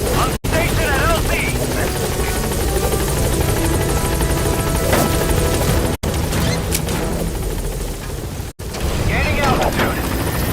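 A B-Quad support helicopter arrives at a landing zone in Metal Gear Solid V, its rotors thumping loudly and steadily up close, with a brief crash-like thud and short drops in the noise.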